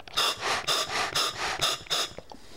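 A scuba breathing regulator delivers air in five or six evenly spaced hissing bursts, each roughly a third of a second long, close and fairly loud, with short quiet gaps between them and no talking.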